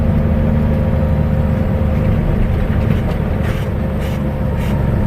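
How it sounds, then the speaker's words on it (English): A loaded truck engine drops a gear while crawling along a snow-covered road at about 40 mph, a steady close low rumble with continuous drone and no break in the loud, dense noise. "I got a downshift here"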